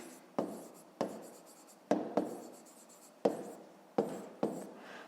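Pen strokes of someone writing out a fifth-grade math exercise by hand, six or seven short scratchy bursts at irregular intervals, close and faint, with no voices.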